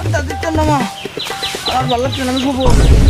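A chicken clucks and squawks close by in rapid, pitched bursts, with people talking over it.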